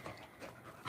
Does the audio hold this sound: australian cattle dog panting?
yes